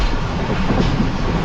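A steady, loud rumble of rail travel aboard the Karachi Express as it runs through Jungshahi railway station without stopping, continuous wheel and carriage noise heard from inside the train.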